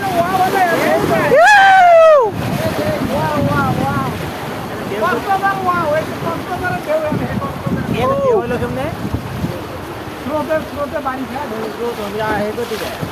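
Rough river waves churning at Jaflong in Sylhet, a broad wash of water and wind noise running throughout, while excited voices shout and talk over it and a loud burst comes near the start.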